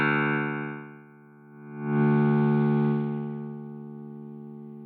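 A Parallax X distortion plugin processes a sustained synth tone, with a buzzy high-band distortion swelling in for about a second in the middle before easing back.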